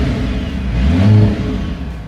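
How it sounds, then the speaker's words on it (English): Mercedes-AMG C63 S E Performance engine revving as the accelerator is pressed, a close, loud mid-pitched growl that swells briefly and then eases, heard alone without talk. "if I want to make some noise, all I have to do is press the accelerator pedal"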